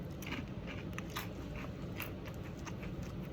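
Crunchy sugar-glazed Honey Smacks puffed wheat cereal eaten dry, bitten and chewed close up in a steady run of crisp crackling crunches with no talking.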